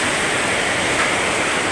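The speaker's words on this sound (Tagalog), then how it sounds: "Buhos talaga guys, napakalakas." A torrential nighttime downpour drums on a roof in Dasmariñas, Cavite, producing a dense, steady roar of rain with no pauses, close and loud throughout.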